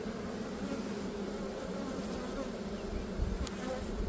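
Honey bees buzz steadily at an open beehive, a close, continuous droning hum of many insects with a small bump near the end.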